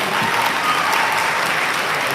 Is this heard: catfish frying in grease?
no